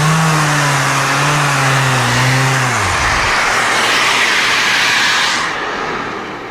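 A Mirka low-profile sander runs loud and steady, a broad continuous whir with a low motor hum that slides downward partway through before the high hiss carries on and thins toward the end.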